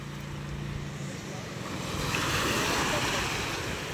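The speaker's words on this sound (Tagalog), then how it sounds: "kalmadang-kalmada ng ating dagat" Calm sea waves on a morning fishing outing, a soft continuous wash of surf that swells slightly louder partway through, with wind buffeting the microphone and a low engine-like hum early on.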